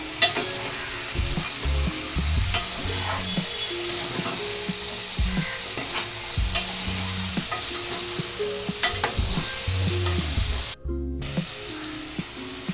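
A spoon stirs cut brinjals in a pan among tur beans for a vegetable dish, giving repeated scraping and clattering strokes over a steady sizzle. The strokes sound close and fairly loud, and no one speaks.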